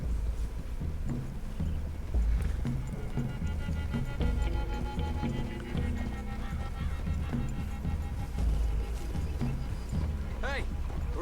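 Hooves clop along rhythmically in Red Dead Redemption 2 beneath a busy game soundscape with music and ambient effects, a horse briefly whinnying near the end.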